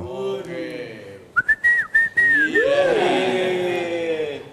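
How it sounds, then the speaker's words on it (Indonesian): A man whistles a short bird-like melody, several clear rising and falling notes in a row, close and loud, with steady background noise and some talk around it. "Saya kan bisa siul juga."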